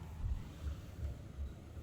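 Low, rumbling typhoon wind buffeting the microphone in slow gusts, fairly quiet and steady outdoors, with no clear voices.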